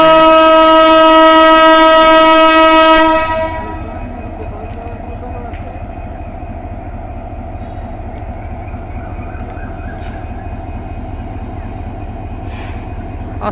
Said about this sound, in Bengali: আস্তে যদুপুর স্টেশন থেকে ছেড়ে চলে যাচ্ছে ট্রেনটি আপনারা দেখতে পাচ্ছেন